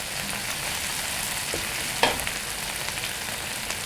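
Chili spice paste for squid sambal fries in oil with a steady, close, even sizzle and one brief clink of a utensil partway through.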